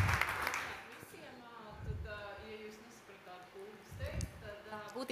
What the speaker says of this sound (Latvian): Aplaus Mārai.